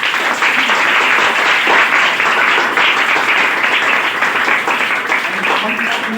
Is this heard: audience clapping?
yes